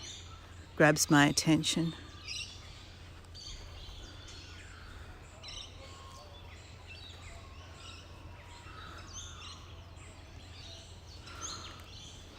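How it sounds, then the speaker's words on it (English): A magpie gives a quick burst of several loud, harsh calls close by, then a person speaks over a quiet outdoor background. "The instantly recognisable call of the magpie"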